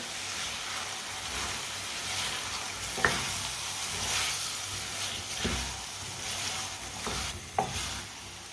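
Finely chopped tomato and green chilies are stirred through a sizzling masala in a pan, a steady fry hiss broken by a few sharp spoon scrapes and clinks against the metal.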